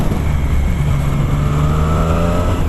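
A Triumph Street Triple 765 RS roadster engine revs hard while riding, a loud, close, rising howl that climbs steadily in pitch over a couple of seconds.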